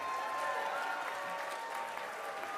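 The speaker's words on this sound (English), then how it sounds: "Can we give the dumpster players another round of applause?" A crowd at the 2019 Cammy Awards claps for the dumpster players, a brief, fairly quiet burst of applause with a faint steady tone running underneath.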